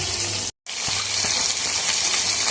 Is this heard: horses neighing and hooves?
no